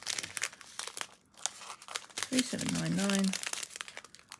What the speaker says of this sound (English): I know it's going to be doing lots of crinkling, which is really annoying.